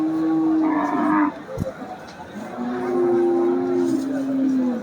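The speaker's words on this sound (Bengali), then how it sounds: "এখানে কিছু বড় সড়ো গরু দেখতে পাচ্ছি আমরা" Cattle at the Kaitola cow market low loudly and close by, with one moo followed by a second, longer drawn-out moo over steady market background noise.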